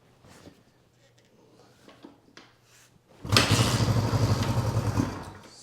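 A 1971 Honda CB350 motorcycle engine fires up after a few seconds of quiet handling noises, then runs loud and steady close by with a rough, pulsing idle.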